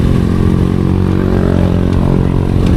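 A manual motorcycle climbs a steep slope in second gear, its engine a loud, steady, close drone throughout with no speech.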